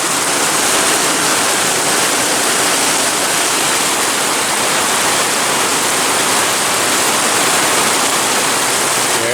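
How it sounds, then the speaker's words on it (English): Heavy rain pours down steadily over a yard with a pond, a dense, unbroken hiss of loud close rainfall with no voices, holding even intensity throughout. "It's just raining harder and harder and harder."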